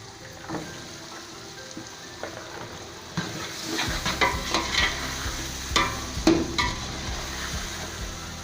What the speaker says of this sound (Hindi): यहाँ पर मसाला जो है ना चने वाला ये भून रहा है